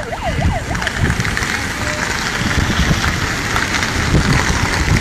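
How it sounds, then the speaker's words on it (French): A police vehicle siren at a winter street protest in Sherbrooke, a few quick rising and falling yelps early on, then a steady hiss of rain or road noise, heard at a moderate distance. "Il y a sa sirène aussi."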